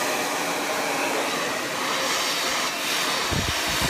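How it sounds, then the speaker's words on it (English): A hair dryer blows steadily at close range while drying the roots of frizzy, curly hair during a blowout, a constant loud rushing whir with a few low bumps near the end and no talk. "You want to make sure that you dry the root area first."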